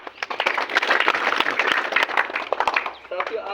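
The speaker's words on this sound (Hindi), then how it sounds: "उनके लिए एक जोरदार तालियां बजाएं।" A crowd at an Independence Day gathering breaks into dense, steady applause lasting a few seconds, with loud overlapping claps throughout that thin out slightly at the end.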